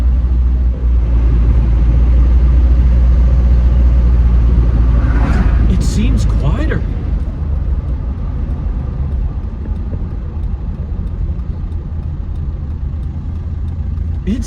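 A TDI diesel-swapped Jeep Wrangler with an upgraded intercooler pulls hard under turbo boost, its deep engine rumble loud and constant while a voice talks over it and a brief burst of higher noise rises midway.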